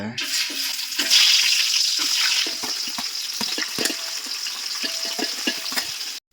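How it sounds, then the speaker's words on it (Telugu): Onions sizzling in hot oil for chicken biryani, a steady bright frying hiss with repeated scraping and stirring clatters from a utensil in the pan, near and fairly loud with no talking. "ఎర్రగడ్డలు బాగా తోరగా వేగనివ్వాలి"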